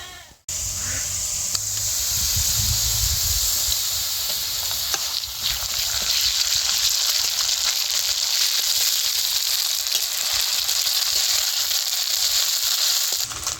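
Cumin and ginger paste hitting hot oil with fried onion, giving a steady, loud hissing sizzle that starts abruptly and continues almost unbroken, with faint crackles and spatters on top.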